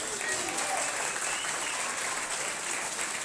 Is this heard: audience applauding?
yes